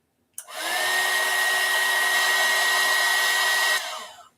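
A heat gun melts wax around a candle wick, switching on abruptly into a steady, loud blowing whine with a constant tone that runs for several seconds before cutting off and winding down.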